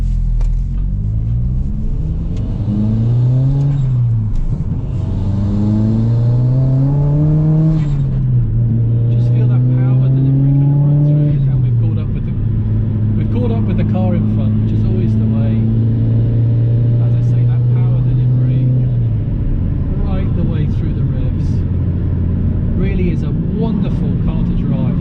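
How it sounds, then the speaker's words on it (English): A Ford Focus RS Mk1 accelerating on an open road, its engine note climbing in repeated rising sweeps through the gears, loud and close from inside the car, then settling into a steadier cruising drone. "let's see if we can get away from here and just let the car stretch its legs a little"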